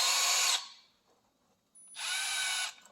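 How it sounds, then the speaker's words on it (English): Power drill whirring in two short bursts while setting up a remote starter, loud and close, with a quiet pause between them. "I'm just going to press my drill"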